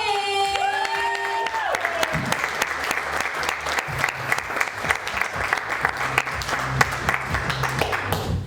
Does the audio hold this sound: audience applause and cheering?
yes